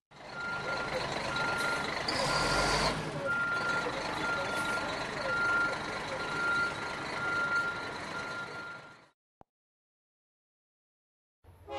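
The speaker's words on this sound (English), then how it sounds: "The tow truck operator pulls up the car with a wheel lift." A heavy tow truck idles with a low diesel rumble while a steady reversing beeper repeats, then the engine cuts off into near silence.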